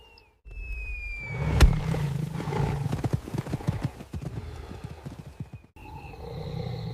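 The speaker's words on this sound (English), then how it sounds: "The terrifying whoosh of hooves muffles all sound." Hooves pound across ground in Białowieża Forest, a rapid, irregular clatter of close, sharp hoof strikes that begins with a loud thud and rolls on for several seconds before briefly cutting out.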